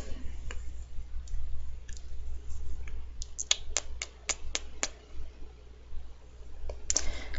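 Sharp mouse clicks selecting the move Dragon Pulse in a Pokémon battle game: a few scattered clicks, then a quick cluster of about eight close, crisp clicks, and one more near the end over a low hum.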